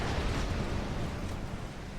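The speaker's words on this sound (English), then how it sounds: "catastrophic explosion on the Repulse" A catastrophic explosion aboard the British battleship Repulse in the naval strategy game Ultimate Admiral Dreadnoughts, heard as a steady, dense, low roaring rumble lasting the whole stretch with no voices.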